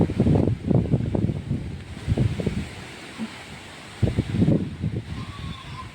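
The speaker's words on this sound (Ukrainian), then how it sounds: "такий вітер ось перегонить хмару" Gusts of wind buffet the microphone in low, rumbling bursts, rising and falling over a quiet outdoor background.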